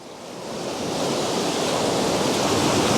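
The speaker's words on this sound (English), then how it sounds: "I'm hoping that's not the last of the waves that will come in." Ocean waves rolling in and washing up on a shore at a landscape spot, a loud, steady broadband surf roar that swells slightly and holds, with no voices.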